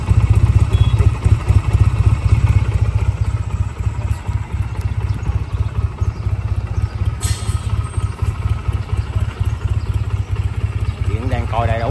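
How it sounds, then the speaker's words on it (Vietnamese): A 2004 Honda Rebel 250c motorcycle, a US import, idles steadily at close range with an even low thrum for about twelve seconds, the engine's rumble continuous throughout. "Máy nổ rất là êm nha quý khách, hồ nổ rất là hay nha."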